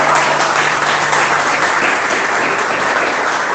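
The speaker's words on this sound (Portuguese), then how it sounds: "Você pode dar mais um aplauso a Ele?" A congregation at a Christian worship gathering applauds steadily and loudly, a dense wash of clapping filling the room without a break.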